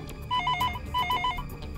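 A telephone ringtone sounds in two repeated bursts of bright electronic warbling tones, clear and close, with a low background hum and no talking.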